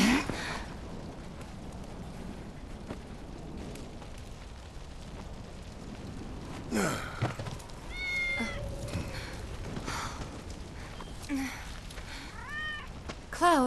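A cat in Final Fantasy VII Remake meows several times, short rising cries spread through the middle and end, mixed with rumbling bursts of game effects and some speech.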